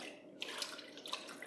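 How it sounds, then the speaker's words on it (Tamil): Water poured from a washing cup into a cooker holding mutton for a white biryani, a steady close splashing trickle with a few brighter drips, no voices. "இது கூடவே 1/2 கப் அளவுக்கு தண்ணி சேர்த்து கழுவி ஊற்றிக்கலாம்."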